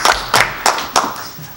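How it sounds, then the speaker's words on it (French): A few people clap at a December city council budget meeting: four or five separate, close hand claps in an irregular rhythm, with no talking. "Vous pouvez applaudir."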